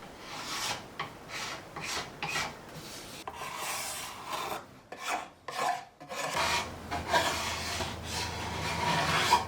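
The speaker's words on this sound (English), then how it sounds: "everything's just gonna be very light scraping until it's down exactly to the weight I want" An Osage orange bow limb being lightly scraped down to final weight: repeated rhythmic rasping strokes on wood, close and moderately loud, with a brief pause midway before the scraping resumes.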